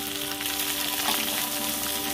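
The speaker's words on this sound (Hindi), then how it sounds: "सर भिंडी को इसे डाल लेती हूँ, डालकर इसे अच्छे से चलाते हुए फ्राई कर लेती हूँ।" Okra frying in mustard oil gives a dense, loud, continuous sizzle heard close up, with light stirring movement underneath and no one speaking.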